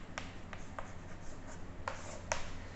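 Chalk or marker writing by hand on a classroom board during a quadratic equations lecture, a few short sharp scratches and taps spaced unevenly over a quiet background, close by, with no talking.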